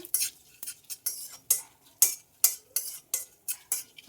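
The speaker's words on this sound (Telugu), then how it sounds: "ఈ కొద్దిగా ఆయిల్లో మనం ఇలా వేయించేసుకుని పక్కకి తీసేసుకుందాము" Seeds and dried red chillies fried in a little oil for bitter gourd curry, a string of about a dozen quick scraping stirs against the pan, each with a short crackly sizzle.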